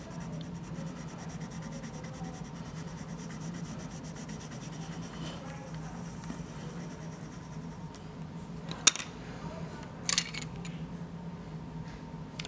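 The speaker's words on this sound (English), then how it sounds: "whenever you apply a lot of pressure, what you're doing is you're blending these 2 colors together" Colored pencil burnishes across paper under heavy pressure, a close, soft continuous scratchy rubbing with rhythmic strokes, broken by a couple of brief sharper taps near the end.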